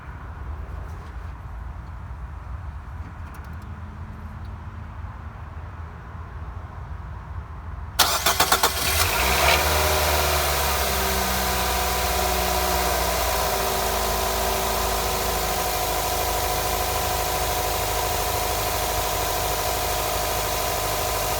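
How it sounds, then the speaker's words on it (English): A Nissan NV200 engine cranks and catches after several seconds of quiet background, then settles into a steady, loud, close idle with a constant hum and vibration, no voices present. "we're gonna go ahead and put the battery in and start the engine"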